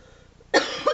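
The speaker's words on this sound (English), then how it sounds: "Had to cough." A single sharp cough bursts out close to the microphone, followed by a second smaller catch of breath, after a quiet moment with no one talking.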